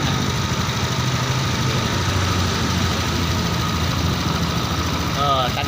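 A Honda Beat fuel-injected motor scooter engine idles loudly and unevenly with a faulty injector, its low rumble sputtering close by without letting up.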